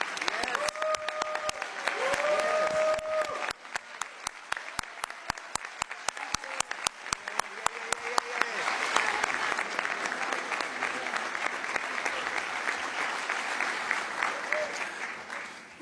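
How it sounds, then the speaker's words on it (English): Sustained applause from the audience at a DNC Credentials Committee meeting in Minneapolis honoring Hilda Solis, dense clapping throughout with brief speech near the start and a steady crowd wash. "if we could give her a big round of applause and a thank you"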